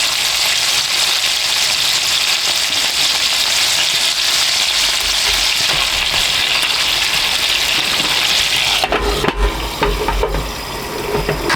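Pepper fries in butter in a pan cooked inside a car, giving a loud, steady sizzle that runs on without a break. Near the end it shifts, with stirring and a few knocks.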